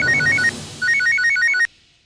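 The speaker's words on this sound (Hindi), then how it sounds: "पवित्र वंदना भाभी के पापी पति का पुनश्य फोन, वो भी परम पूज्य जोशीपुरा को।" A telephone's electronic ringtone sounds close and loud in two bursts of bright, repeating chiming notes, with a short pause between them and a quick cutoff at the end.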